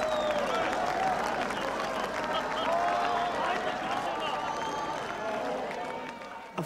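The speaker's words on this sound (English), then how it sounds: "West Berliners had come to the border and they were applauding us" A crowd of West Berliners at the border applauds continuously, a dense wash of clapping with voices mixed in, fading slightly toward the end.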